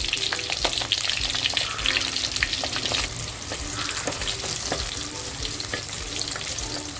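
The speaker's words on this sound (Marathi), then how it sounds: "तर बघा तेल छान तापले त्याच्यामध्ये कांदा टाकते अगोदर" Onion frying in hot oil in a clay pot for spicy mutton curry, a steady dense sizzle with scattered crackles and spatters, close and fairly loud, with no voices.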